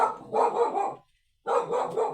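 A dog barks in two short bursts of rapid, close barks separated by a brief silence, fairly loud against a quiet indoor setting, no talk during the clip.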